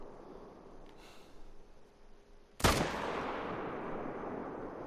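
A single sharp rifle shot rings out in a wolf hunting video game, a loud abrupt crack at mid-clip followed by a long rolling echo that fades slowly over quiet ambient outdoor background.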